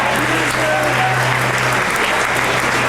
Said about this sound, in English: why don't we give a big round of applause for the teachers